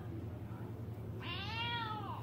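One drawn-out meow from a cat sounds in the second half, close and distinct, above a constant low thrumming background.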